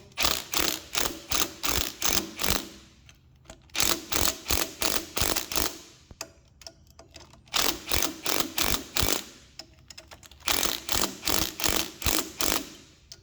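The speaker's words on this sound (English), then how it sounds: "if you slowly tighten up each side, a couple of turns at a time" Ratcheting clicks from tightening a camber adjuster on a car a couple of turns at a time, quick bursts of rapid mechanical clicks separated by short pauses, close and moderately loud.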